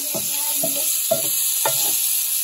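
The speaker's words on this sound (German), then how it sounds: "Ich brate ein bisschen Gemüse und Pilze an" Vegetables and mushrooms frying in a pan give a steady, close sizzle, broken by four evenly spaced scraping stirs; no voices.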